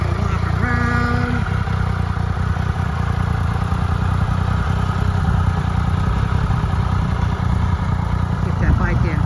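A 2014 Triumph Tiger Explorer ABS motorcycle engine idles steadily close by, a continuous low rumble with light mechanical clatter and a brief tonal whine early on.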